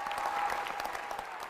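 A graduation ceremony crowd rises and applauds, a dense, even wash of many hands clapping at moderate distance for a brief stretch.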